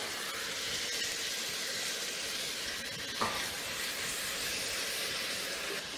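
Chopped tomato tipped into a pan of sizzling onion and garlic, a steady hiss of frying with a brief clatter as the tomato drops in, no voices.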